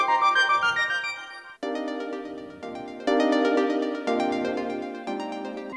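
An Arturia MicroFreak synthesizer plays a factory-sample harmonic progression, a sequence of sustained bright chords changing about once a second with sharp attacks and slowly fading tails, clean and close with no talking.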